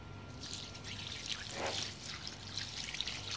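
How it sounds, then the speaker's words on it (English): Distilled ethanol poured over freshly picked, undried cannabis for a resin wash, a faint close trickle and dribble of liquid lasting a few seconds, with no speech. "We're going to wash it with ethanol that we distilled."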